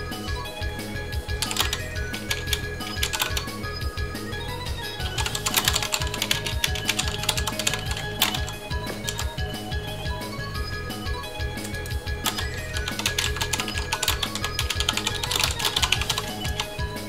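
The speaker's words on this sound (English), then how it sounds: "I hope my keyboard isn't too loud." Fast, steady typing on a computer keyboard during a game stream, loud and close, with dense clattering keystrokes that run continuously under a constant background hum and no one speaking.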